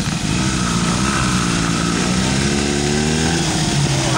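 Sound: vintage Scott motorcycle engine running

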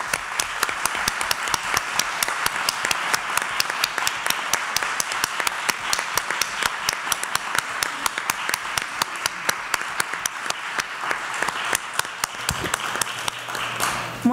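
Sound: audience applause for invited experts

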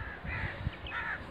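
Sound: birds chirping in the morning

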